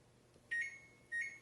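A kitchen timer signals the end of a ten-minute countdown with two short, bright electronic beeps about half a second apart, close and clear over a quiet room.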